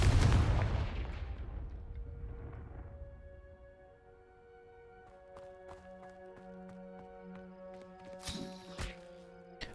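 Confringo fire spell in the Hogwarts Legacy video game, a loud explosive blast that fades over a few seconds, followed by ringing magical tones and a sharp crackling burst near the end.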